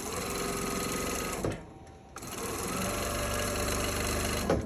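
A sewing machine runs steadily stitching quilt pieces, its close buzzing motor pausing briefly before resuming at full speed.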